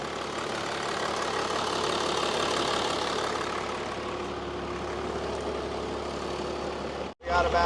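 A Cummins diesel swapped into a 1956 big rig truck idles steadily and loudly up close, a continuous rumbling run that cuts out abruptly near the end before starting up again.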